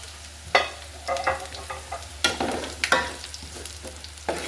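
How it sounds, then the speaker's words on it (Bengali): Ground spices — five-spice, mustard, chili powder, turmeric and chili flakes — hit hot oil for a hog plum pickle, giving sharp sizzling bursts and scraping stirs that come in uneven pulses. "এই গরম তেলে কিন্তু আমি সবগুলো মশলা দিয়ে দিচ্ছি।"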